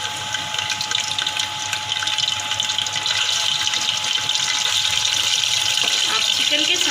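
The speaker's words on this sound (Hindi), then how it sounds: "अब इसी ऑयल के अंदर मैंने चिकन को डाल दिया है।" Chicken pieces fry in leftover hot oil in a pan, a loud steady hiss and sizzle that keeps up evenly for several seconds, close to the listener.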